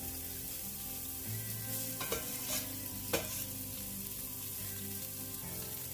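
Bolognese ingredients sizzle steadily in hot oil in a pot, a continuous frying hiss with a few sharper clatters of stirring around the middle and music playing softly underneath.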